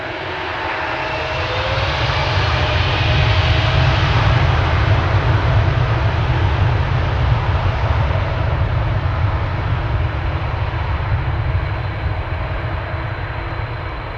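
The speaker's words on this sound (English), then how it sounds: "Sound of the Delta's A330 engines taking over here." Loud, steady roar of Delta Airbus A330 jet engines building and holding at takeoff, a broad rushing drone with a faint rising whine, no voices.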